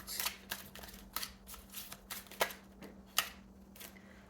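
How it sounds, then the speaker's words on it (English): A tarot deck is cut and shuffled by hand, giving a string of sharp, close card snaps and riffles at irregular intervals over a faint steady hum, with no talk. "Just gonna cut them in half and let's see what comes out."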